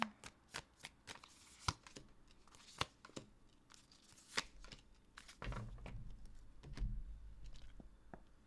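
Tarot cards being shuffled by hand for a reading: a close, quiet run of crisp riffling flicks and taps, then a denser rustling shuffle toward the end.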